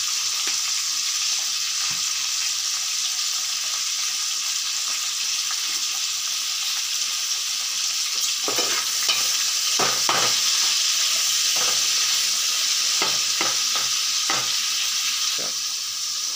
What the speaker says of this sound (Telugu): టమాటా మగ్గిందండి, ఉడికింది నూనెలో